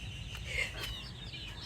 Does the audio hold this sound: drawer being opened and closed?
no